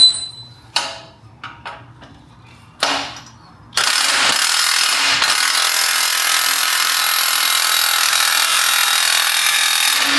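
A spring compressor is tightened on a Dinan lowering spring for a BMW X5M. Several short, sharp mechanical bursts come first, then a loud, steady whirring grind runs without a break for about six seconds.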